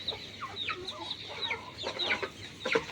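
Several chickens cluck softly in short, scattered bursts, with a few higher squawks, close by in a quiet setting.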